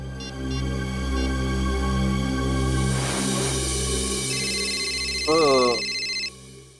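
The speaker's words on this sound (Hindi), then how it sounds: "अब इस वक्त किसका फोन आ गया?" A telephone rings in short electronic bursts over a steady hum and background music, with a brief warbling tone near the end.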